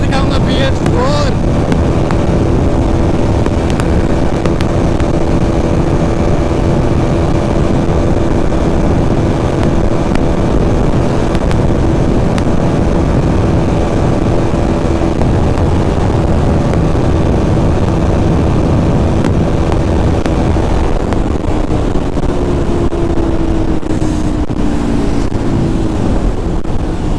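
Two Bajaj Pulsar NS200 motorcycles, a BS6 and a BS4, run a top-end race at full throttle, their engines droning loud and steady under heavy wind rush for the whole stretch, with pitch sliding near the end.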